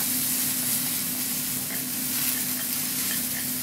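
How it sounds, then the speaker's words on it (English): Garlic sizzling steadily in a hot pan while ratatouille is being made, a loud, even frying hiss with faint stirring scrapes and no talking over it. "I am actually going to add my garlic to this pan"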